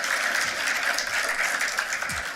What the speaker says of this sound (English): please join me in another round of applause in thanking Abner and Roz